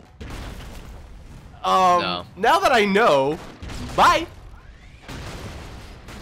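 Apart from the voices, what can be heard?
explosion in Broforce video game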